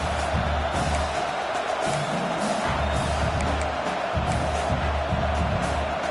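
A home crowd at a football game roars in a steady, dense wall of cheering and shouting, loud and continuous throughout, with faint commentary underneath.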